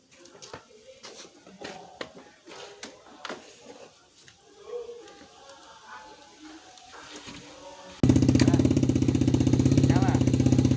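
A vehicle engine undergoing a pre-delivery inspection is started with its starter motor and settles into a loud, steady idle near the end, after a stretch of talking and workshop handling noises.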